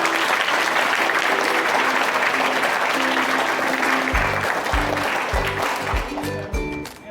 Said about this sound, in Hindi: जोरदार ताली अपने टीचर के लिए बजाइए